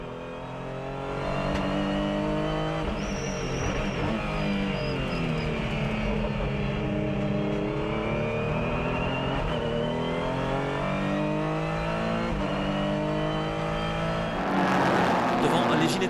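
GT and LMP3 endurance race cars at the Barcelona circuit roar past in a sustained, loud engine drone with shifting pitch through gear changes, a commentator talking over it.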